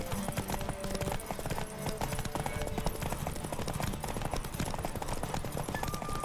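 Fast, driving hoofbeats of a racing horse in The Witcher 3 pound in a tight, continuous rhythm, close and loud, layered over game music with no voices.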